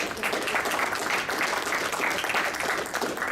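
A lecture audience applauds steadily at a seminar on contaminants in fish, a dense and even patter of many hands that holds at a constant level throughout, with no talking over it.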